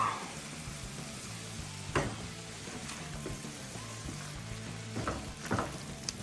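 Seafood dressing mixture stirred in a hot pan: a steady sizzle runs throughout, broken by a few scraping knocks of a spoon against the pan.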